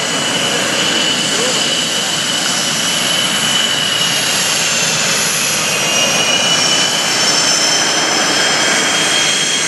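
F/A-18 Super Hornet jet engines run at the 2015 NAS Oceana airshow during a fleet air power demonstration, producing a loud, constant, close roar that fills the whole stretch without letting up.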